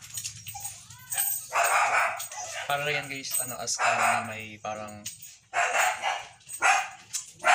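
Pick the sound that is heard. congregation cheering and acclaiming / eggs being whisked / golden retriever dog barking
golden retriever dog barking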